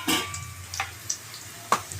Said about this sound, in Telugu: ఇక్కడ ఉల్లిగడ్డలు బాగా వేగాయి